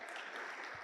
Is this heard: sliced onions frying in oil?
no